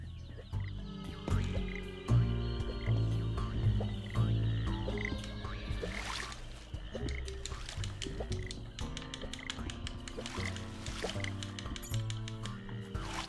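Frogs croak in a swamp in the Ben 10 Power Trip video game, with repeated croaks over a busy, loud game soundtrack and effects.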